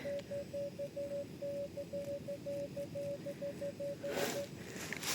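A Minelab Equinox metal detector's steady electronic tone pulses on and off in a rapid, regular beeping pattern in a forest, over low rumbling background noise, with a brief rustle near the end.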